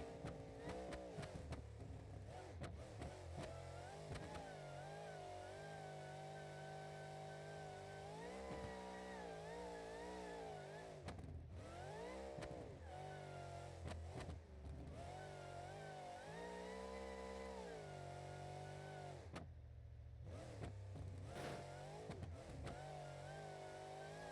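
A supercharged monster truck engine with twisted-lobe supercharger and adjustable headers in BeamNG.Drive revs and roars continuously, its pitch rising and falling through repeated throttle swells, with a brief drop near the end.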